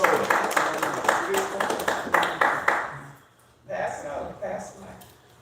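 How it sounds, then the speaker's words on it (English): An audience applauds in a room, bursts of loud, dense clapping with a brief lull before a second round, while a person speaks over the cheering. "Let's clap it up for him."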